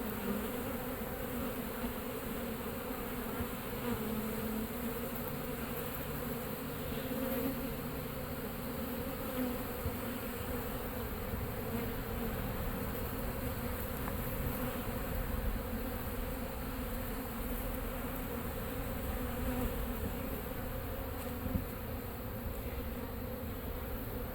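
Honeybees swarming and feeding around a backyard hive cut-out with exposed honeycomb, a dense continuous buzzing drone of many insects, close and steady throughout.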